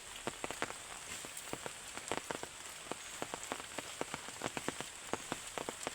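Rain falls outdoors on a farm, a fairly faint steady patter with scattered sharper drips hitting a nearby surface.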